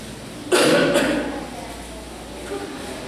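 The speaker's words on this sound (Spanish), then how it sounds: "Yo también, por el clima, tengo un poco tos." A single burst of coughing close to the microphone, followed by quieter room noise and a faint second sound.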